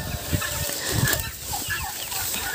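Ducklings squeal and peep insistently for greens in a continuous, shrill chorus with a few louder cries, close by.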